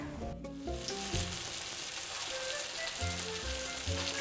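Potato balls frying in oil in a pan give off a constant crackling sizzle, heard close and steady beneath a background music track, with no talk.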